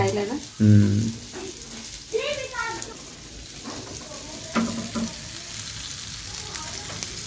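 Large market fish deep-fries in mustard oil for a village-style curry, a steady close sizzle with a few louder bursts, while people talk over it.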